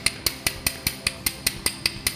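Hammer striking heated sheet metal backed by a dolly during heat shrinking, a steady run of about eleven sharp, ringing metallic blows evenly spaced roughly every fifth of a second, close and alone.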